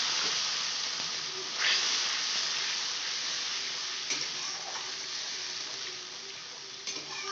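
Ground spice paste for vegetarian ghugni sizzling in a pan after asafoetida tempering, a loud, steady hiss with occasional faint stirring clicks.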